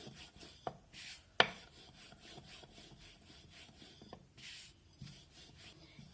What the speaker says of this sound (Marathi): आता आपण जशी चपाती लाटतो त्याप्रमाणे पातळ लाटून घ्यायचं आहे